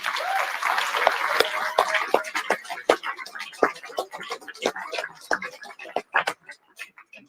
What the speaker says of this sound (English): Please join me in giving a well-deserved round of applause to this year's Catalyst Award recipients.